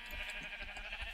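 Sheep bleating on a Minecraft farm, a few soft repeated game bleats over a steady ambient bed, moderately faint and without any talk.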